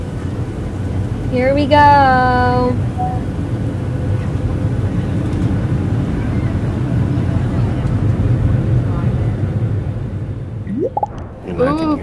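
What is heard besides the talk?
airplane taking off in the video game Roblox Bloxburg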